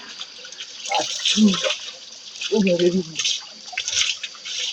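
Someone bathing under a cold natural outdoor shower: splashes and pouring water come in short bursts, with someone talking over them.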